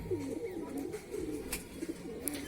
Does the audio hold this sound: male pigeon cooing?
yes